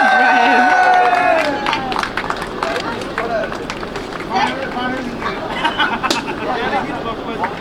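An audience at a picnic gathering claps loudly together, dense applause that starts strong and continues unevenly with scattered claps, under cheering voices and chatter.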